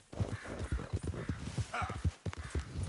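Horse hooves clip-clop in a quick, even rhythm, close and clear, in Red Dead Redemption 2, with no other sounds over them.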